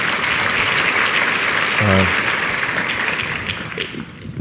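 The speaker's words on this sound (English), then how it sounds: "That's worth a clap." Loud, dense applause from a live audience at a talk on psychedelics, sustained clapping that tapers slightly toward the end, with a brief vocal sound briefly breaking through midway.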